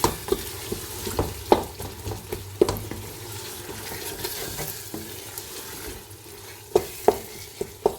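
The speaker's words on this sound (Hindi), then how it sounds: "अच्छे से इसको भून लेना है।" Green chickpeas and potatoes sauté in a pressure cooker, sizzling steadily while a spoon stirs and scrapes with repeated clinks against the pot; no voices.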